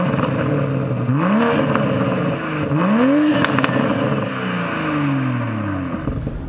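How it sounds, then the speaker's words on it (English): A BMW M340i xDrive engine revs hard several times, each rising pull sweeping up before dropping back, loud and close, with crackles between the bursts and no voices. "This thing allows you to rev it all the way out."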